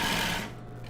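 Sewing machine stitching lingerie fabric, running in a short steady whirring burst that stops about halfway through, leaving quiet room tone.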